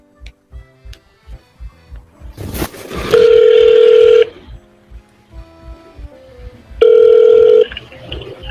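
Telephone call being placed: a series of evenly spaced button beeps, then a burst of noise and two long, loud ringback tones separated by a pause, heard alone without talk.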